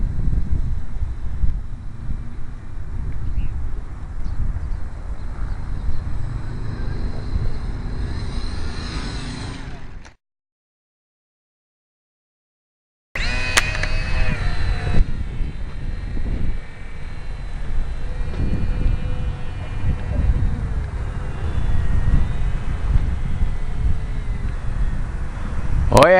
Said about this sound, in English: Yeah, it's windy all right.